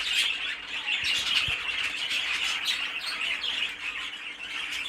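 A breeding pair of cage birds in a shed squawk and chirp close by, with repeated sharp calls over a busy background of bird chatter.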